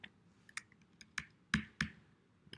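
Computer keyboard arrow keys are pressed while working in Adobe After Effects: about ten quiet, close clicks in an irregular rhythm, a few slightly louder taps standing out, with no talking.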